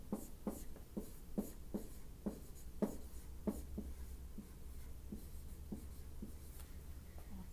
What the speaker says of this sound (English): Now I'm going to pause for a second and write something on the board